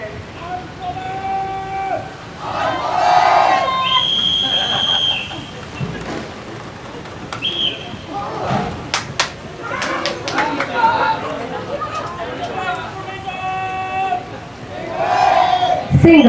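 An unruly crowd shouting and jeering at police during a crowd-control drill in Puerto Princesa City, loud massed yelling with whistles and clatter, rising and falling throughout while an announcer speaks over it.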